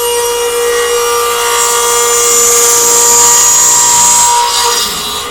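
Delta 990 radial arm saw cutting about a quarter inch off a wooden board, a loud, close, steady high-pitched whine and rasp of the blade through the wood, tapering off at the end.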